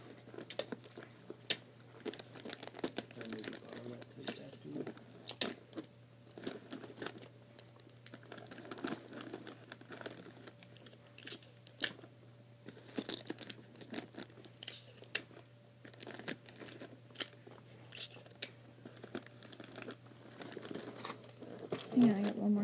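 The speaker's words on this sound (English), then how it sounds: "I'm just going to use a lot of tape to tape it down." Wrapping paper being folded and taped around a Christmas gift, with repeated crinkling, crumpling and tape-tearing sounds throughout, close and moderately loud, alongside occasional talk.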